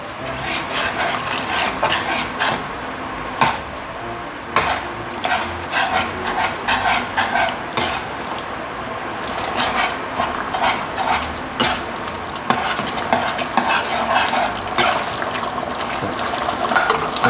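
Tapioca starch is stirred into a sizzling sauce for crispy instant noodles with minced pork, giving a busy run of repeated scraping and clattering stirs over a low hiss.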